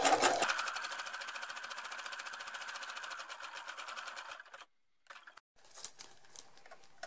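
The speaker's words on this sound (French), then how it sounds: "Voilà, là j'ai pris le point zigzag." A domestic sewing machine runs a zigzag stitch through fabric with a steady, fast mechanical whirr and rapid ticking. It stops abruptly, then gives a few short bursts and clicks.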